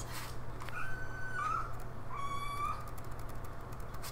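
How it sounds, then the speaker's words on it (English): A young kitten, one of four found by the side of a road, gives a few thin, drawn-out meows close by, several cries in a row over a steady low hum with no talking. "Do you hear that kitten?"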